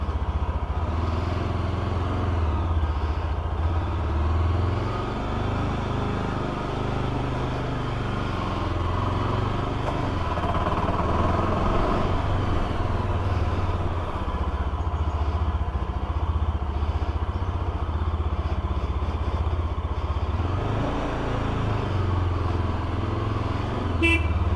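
A Yezdi motorcycle rides out through traffic, its engine droning low and steady throughout, with car and vehicle horns tooting intermittently nearby amid general road noise.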